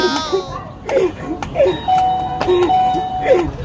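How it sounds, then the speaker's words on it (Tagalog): A doorbell chimes several times in quick succession, ding-dong tones repeating over a noisy background. "huwag mong paglaruan yung doorbell namin"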